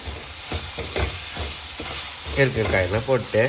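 Vegetable kurma with curry masala stirred and sizzling in a pan, a steady frying hiss with scraping strokes, then a voice talking over it in the second half.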